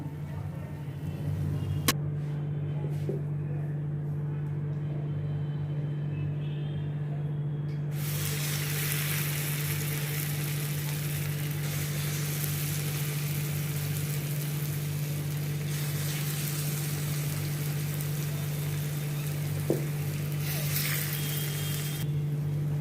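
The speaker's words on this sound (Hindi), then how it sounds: "इसी तरह से मैं बाकी के और भी फ्राई कर लेती हूँ।" Rasam vadas deep-fry in hot oil with a steady, dense sizzle and hiss throughout, a constant low hum beneath it and a few faint clicks.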